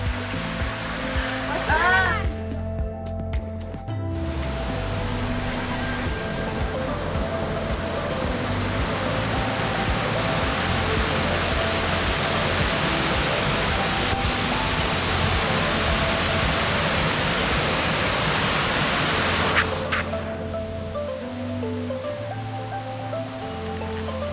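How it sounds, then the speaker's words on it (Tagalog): A waterfall at Lake Sebu in South Cotabato roars as a loud, constant broadband rush of falling water, with faint voices briefly at the start and end under the torrent. "ito pa yung isang falls na marami siyang falls dito guys actually"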